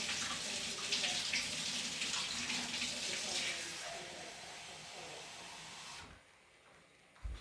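Cold water runs steadily from a tap in a snow experiment, a close and continuous gushing that softens partway through and then stops near the end.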